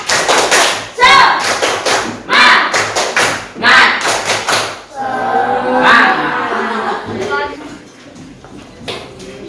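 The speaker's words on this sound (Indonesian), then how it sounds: "Coba tepuk semangat." A school class does rhythmic spirit clapping, loud patterned bursts of claps in groups close by, with children chanting along and then talk as the clapping fades out.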